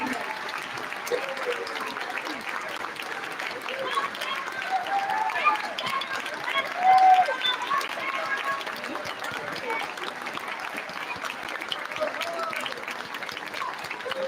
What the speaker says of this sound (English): you have to keep the applause going